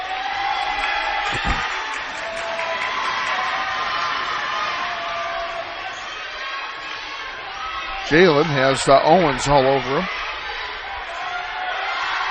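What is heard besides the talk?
noisy high school basketball crowd cheering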